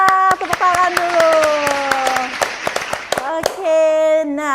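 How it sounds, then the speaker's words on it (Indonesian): An audience claps its hands in quick, irregular bursts over sustained tonal voice or music sounds, and the claps stay dense and lively throughout. "tepuk tangan dulu."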